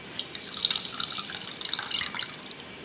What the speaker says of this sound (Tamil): இதுல இருந்து தண்ணி நமக்கு வந்து இதுவரையும் பார்த்தீங்கன்னா எவ்வளோ தண்ணி வருதுன்னு பாருங்க